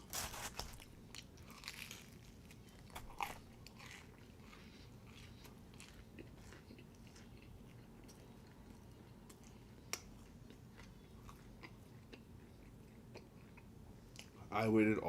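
Someone eats Pizza Hut pizza and pasta up close, with soft, steady chewing and occasional crunchy bites spread across the meal and a brief louder burst near the end.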